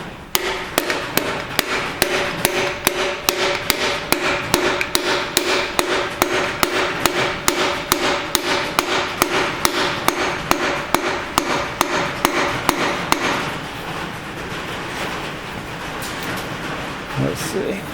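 A brass hammer taps a piston down into a ring compressor while the pistons and rings go into a 5.4 engine block. Quick, evenly spaced, close, sharp taps continue for about thirteen seconds, then stop.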